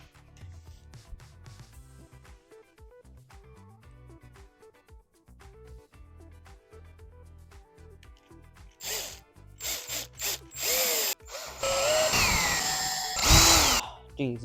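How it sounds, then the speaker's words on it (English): Power drill boring holes into hard wood while building a towable potato cannon, a series of loud bursts of whirring and grinding after a quieter stretch, rising toward the end. "Now that I've marked them, time to drill."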